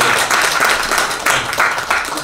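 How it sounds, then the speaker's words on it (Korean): An audience at a church service applauds to welcome a guest, a dense burst of clapping that swells in waves and stays loud and close for the whole stretch. "우리 한번 박수로 환영을 좀 해주시기 바랍니다"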